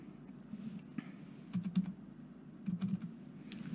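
Keys clatter on a computer keyboard in short clustered bursts of clicks, close and fairly quiet over a low steady hum, with no talking.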